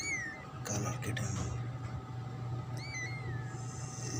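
A small black, orange and white kitten gives a few thin, high meows over a steady low hum, with some brief clattering noises in between.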